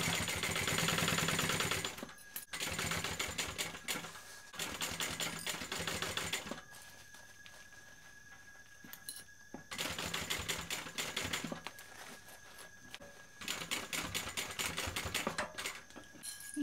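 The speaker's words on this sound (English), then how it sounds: "I'm going to sew it from the lining side" Sewing machine stitching a bag from the lining side, running in several rapid bursts of two to three seconds separated by brief pauses, a close, rattling mechanical whirr with no speech.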